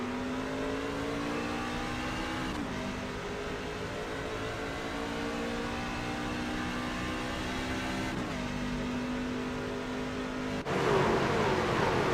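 A racing truck engine in a sim racing game at Chicagoland climbs steadily through the gears, each upshift briefly dropping the pitch before it rises again, loud and continuous throughout.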